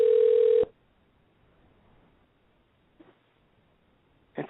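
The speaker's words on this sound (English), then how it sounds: "The sound of the phone ringing is just so lonely" A telephone rings out during a call, one steady electronic ring tone that stops abruptly into near silence before the next ring begins at the very end.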